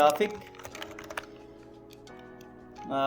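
Keys clatter on a computer keyboard as a search is typed, a quick burst of clicks at the start and again at the end with sparser taps between, close and fairly quiet.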